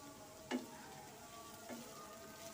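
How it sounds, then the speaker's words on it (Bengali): Chopped tomato and vegetables for egg noodles frying in a pan, a steady close sizzle with two brief spatula scrapes, quiet and without talk. "সবগুলো আর কিছুক্ষণ একটু ভেজে নেব"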